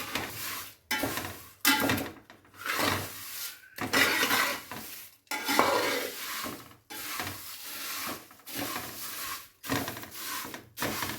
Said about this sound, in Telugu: ఇప్పుడు మంచిగా మిక్స్ చేసుకోవాలండి.